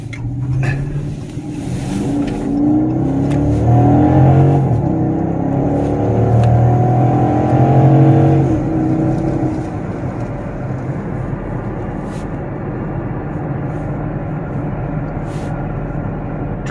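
A 2018 Dodge Charger Pursuit with AWD and a V8 driving, its engine rising to a loud, rumbling pull for several seconds before easing back into a steady road and tire drone, heard from inside without speech.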